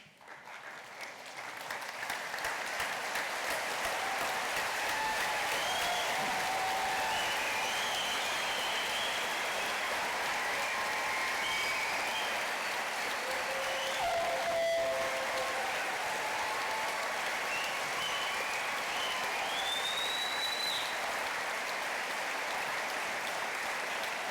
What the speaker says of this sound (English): give a round of applause for our graduates